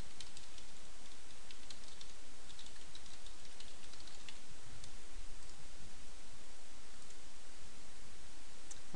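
Rapid typing on a computer keyboard while posting a status update, a steady run of soft clicks over constant background hiss, with no voice.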